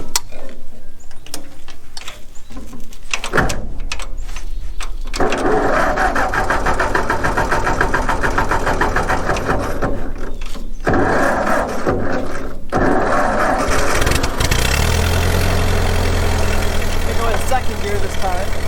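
A 1944 Ford tractor engine cranks with a few sputters, catches and settles into a loud, steady rumbling run close by, with brief dips in its note as it keeps going.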